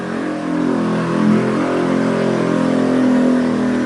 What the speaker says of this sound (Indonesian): Berisik, ada motor yang lewat.